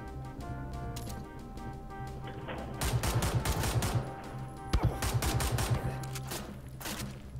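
Pistol gunfire in Wolfenstein rings out as close, sharp shots. Short clusters of rapid cracks stand over a humming game backdrop, with louder volleys near the middle.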